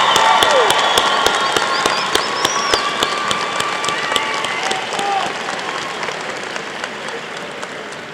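Graduation audience at a college commencement applauding high school students, a sustained full round of crowd applause with sharp scattered claps standing out, steady and loud throughout.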